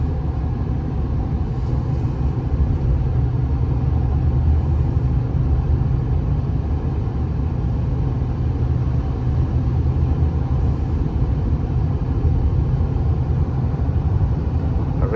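Steady low road rumble with soft wind and tire noise fills the cabin of a 2012 Ford F-250 King Ranch 4WD with a 6.7L diesel while driving, a constant even drone without breaks.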